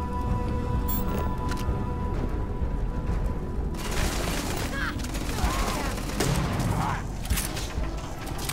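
Rapid bursts of gunfire crackle and boom in Starfield, with clusters of shots and mechanical clatter over a steady background.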